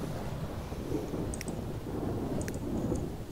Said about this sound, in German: Das Gewitter, ich mag keine Gewitter.